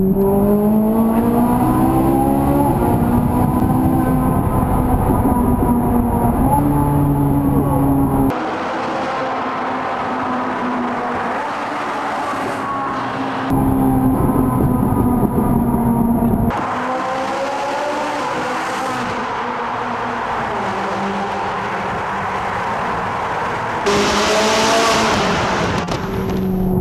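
A Ferrari 458 Italia supercar's engine accelerates hard, rising through the revs in several long, loud pulls separated by shift breaks and quieter cruising stretches, with a high buzzing whine.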